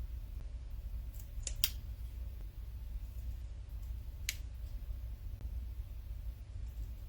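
Scissors snip paper while a card is made, a few sharp, quiet cuts spaced over a low steady background hum.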